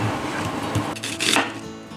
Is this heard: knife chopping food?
yes